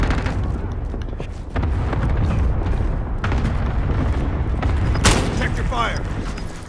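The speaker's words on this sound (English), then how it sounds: "I hear all this shooting" Gunfire and booming blasts in the battle royale game Warzone on Rebirth Island, a steady dense wash of distant shots and explosions running throughout, with players talking over it.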